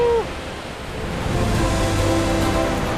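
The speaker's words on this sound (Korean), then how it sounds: "폭포다!" Curtain-type waterfall deep in the Sarawak rainforest of Malaysia, its water fanning out over a jutting rock ledge; a steady, broadband rushing roar swells and holds after a brief tonal sound at the start, with no talk.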